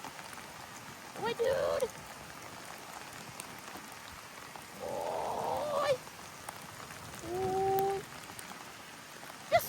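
Rain falls steadily outdoors during training with a young working-line German shepherd, a soft continuous patter under short spoken commands, with a few brief honking calls standing out.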